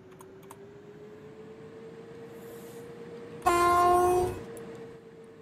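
An EP09 electric locomotive starting in the MaSzyna train simulator game: a steady low electric hum runs throughout, then a loud, close horn-like tonal burst sounds for about a second before fading back to the hum.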